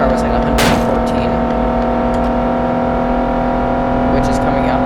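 A Lexus GS 350 F Sport V6 in the City Car Driving video game holds a loud, steady engine drone as it accelerates, with a brief sharper burst early on.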